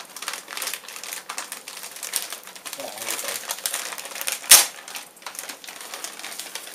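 An anti-static plastic bag crinkles and rustles close by as a graphics card is unwrapped from bubble wrap, ending in one sharp, loud crackle.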